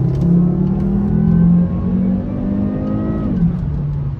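A Volvo S60R engine revs under roughly one-third throttle, its loud, steady drone rising and holding before easing off, heard up close with no talking.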